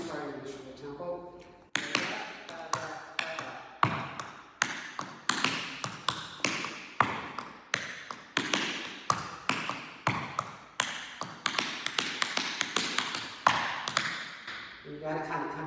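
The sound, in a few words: tap dance steps: flaps, scuff, slam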